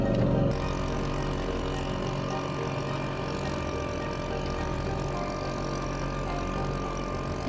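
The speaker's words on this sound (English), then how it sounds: "that 2 horsepower engine is just slaving away, pulling the big boat" A small 2-horsepower outboard motor towing a large boat drones steadily throughout, a continuous mid-pitched hum with a constant low rumble, loud and close, with no other sounds standing out.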